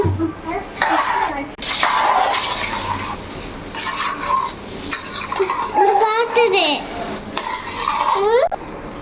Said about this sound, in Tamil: பேடு ஆன் பண்ணியாச்சு இப்போ வச்சு நம்ம கிண்டுவோம்